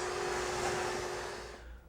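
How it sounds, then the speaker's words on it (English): A vacuum cleaner sucks up dust and insulation, a steady loud whooshing motor roar with a constant hum that tapers off slightly at the end, heard alone. "be sure to put a drop cloth and then vacuum up all the dust and insulation"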